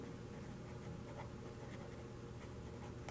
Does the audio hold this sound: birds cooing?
no